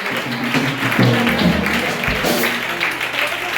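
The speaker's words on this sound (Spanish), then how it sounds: "Le damos un fuerte aplauso al Señor con gozo, con alegría, para nuestro Dios." A church congregation applauds together in praise of God during a worship service, a steady dense wash of clapping filling the room, with low sustained tones and faint voices mixed underneath.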